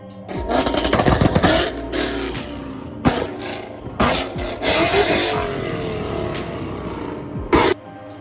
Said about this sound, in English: when you place the earbuds back into the case or power them off, you hear a closing rev sound, giving it a proper Mustang signature finish